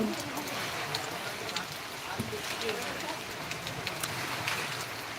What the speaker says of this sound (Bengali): দেখুন এক ঘড়ি বৃষ্টি পড়ছে কত বৃষ্টি আসছে